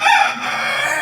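A rooster crows once, loud and close, a brief strained call among a small flock of chickens.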